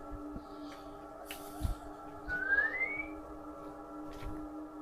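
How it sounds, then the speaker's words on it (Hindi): A faint whistle slides upward once through quiet background hum, with a few soft knocks around it. "कोई सीटियां मार रहा ये है।"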